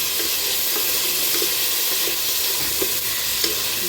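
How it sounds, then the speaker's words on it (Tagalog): Garlic, onion and shrimp sauté in plenty of oil for labong with coconut milk: steady, close sizzling with occasional soft stirring clicks throughout. "gisahin muna natin yung bawang, sibuyas"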